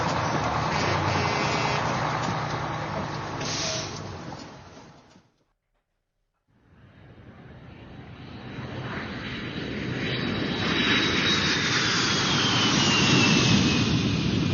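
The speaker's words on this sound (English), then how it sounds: "A big plane." A big jet airplane roars loudly, its engine noise fading to a brief gap of silence and then building again into a strong, sustained roar with a rising whine.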